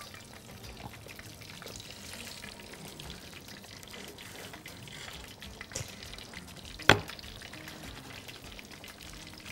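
Potato and cheese patties frying in hot oil, a faint continuous sizzle and bubbling heard close up, with one brief sharp click partway through.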